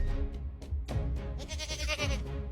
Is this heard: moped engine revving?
no